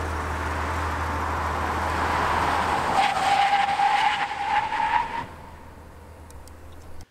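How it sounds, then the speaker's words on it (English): An SUV brakes hard from 60 mph on a test track, engine noise giving way to a few seconds of loud tire squeal and skidding before the vehicle settles to a stop, with no talking. "The SUV stopped in an average of 126 feet."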